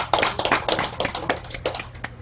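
A small audience at a Buddhist dharma talk gives a short burst of hand clapping, uneven and fairly close, the individual claps audible throughout.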